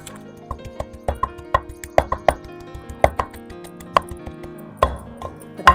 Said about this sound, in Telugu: ఎల్లిపాయలు వేసి దంచుకుంటే కమ్మట వాసన వస్తుంది